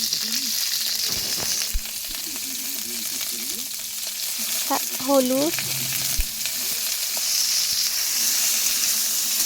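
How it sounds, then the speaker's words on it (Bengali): Green beans frying in oil in a wok give a continuous sizzle with some stirring, while a person speaks briefly partway through. "কড়াইতে তেল দিয়ে শিমগুলো দিয়ে দেব"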